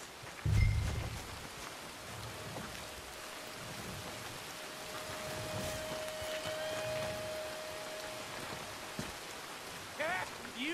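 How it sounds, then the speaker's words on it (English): Steady rain in Red Dead Redemption II patters throughout, with a low rumble of thunder near the start and a few faint voices and clicks. "First it was sunny, and now it's raining."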